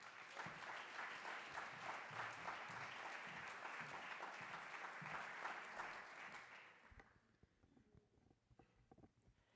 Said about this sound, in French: la maire de Genève, Madame Christina Kitsos, qu'on peut applaudir.